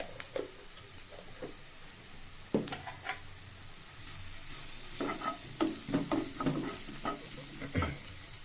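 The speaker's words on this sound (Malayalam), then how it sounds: "ഒന്ന് ചെറുതായി ഇളക്കി മൂപ്പിക്കാം" Turmeric and cumin powder frying in oil, stirred with a utensil that scrapes and taps the pan in irregular bursts over a faint sizzle, with more rapid stirring later.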